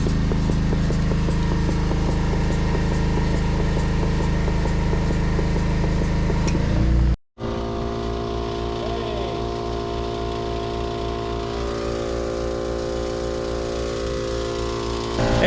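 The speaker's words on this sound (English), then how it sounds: "as soon as that generator warmed up, compressor fired right off" A generator and an air compressor run together beside a travel trailer, giving a steady mechanical hum with regular pulsing. The sound cuts out abruptly for a moment, then the machines resume running evenly.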